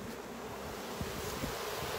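Bees driven out of a hive super by a fume board, a faint, steady buzzing hum with a few brief louder passes close by.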